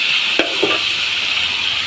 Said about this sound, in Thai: ผัดบวบใส่หมู